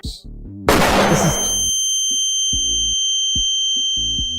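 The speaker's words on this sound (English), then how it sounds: "Throwing flashbang." A flashbang going off in a Red Dead Redemption 2 style video game, a sharp loud burst with a noisy decaying tail and a high ringing tone, followed by short tonal game sounds.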